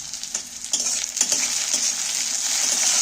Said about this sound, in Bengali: টমেটোটাকেও একটু পেঁয়াজের সাথে ভেজে নেব।